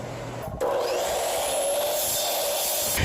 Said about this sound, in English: next I'm going to cut 2 3-foot sections, or 36-inch sections, from one of the 2x4s